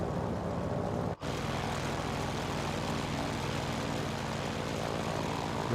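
A single-propeller plane in a flight simulator game drones steadily and loudly throughout, with one very brief dropout early on before the engine tone resumes unchanged.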